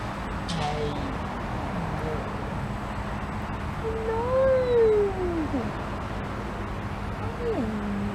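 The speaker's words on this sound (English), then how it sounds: "Monty is a famous Wellington cat" Monty, an old cat in Wellington, meows twice: a longer, drawn-out, rising-then-falling call and, after a pause, a short second meow, both close over a steady low background hum.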